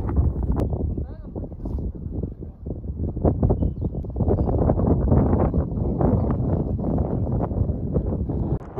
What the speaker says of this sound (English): hopefully y'all can hear me with this insane wind